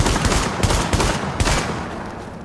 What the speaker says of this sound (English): my semi-automatic shotgun goes into full auto